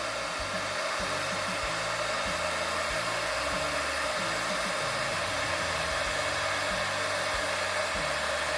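A heat tool warms the neck stem of a Mego Storm Shadow action figure, blowing a loud, steady airy whoosh with an even low hum that runs unbroken throughout, with no voices.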